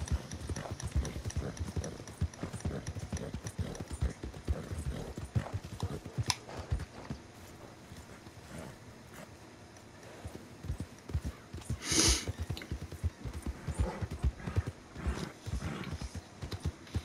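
Horse hooves clip-clop at a steady riding pace in the video game Red Dead Redemption 2, close and continuous, with a brief whinny-like burst partway through and faint ambient game sounds beneath.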